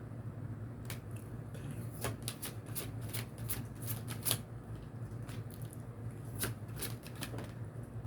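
Stiff playing cards riffle and snap in quick irregular bursts of crisp flicking, fairly quiet and close, with short pauses between runs of shuffling.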